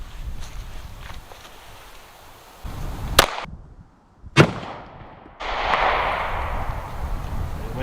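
Sharp 9mm pistol shots fired into a homemade ballistic gel block outdoors, two distinct cracks a second apart, followed by rustling and wind-like noise.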